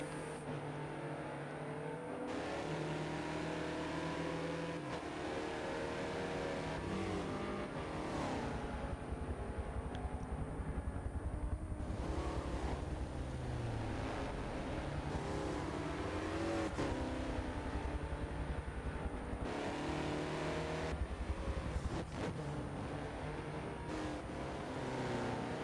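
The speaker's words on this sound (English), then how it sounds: "Bit of a battle there for the LMP2 lead. Between Thomas King and Schiller." Race cars, including LMP2 prototypes, circle the Daytona banking in a sim racing endurance game, engines droning and revving steadily through gear changes as cars pass, continuous and moderately loud with no talk.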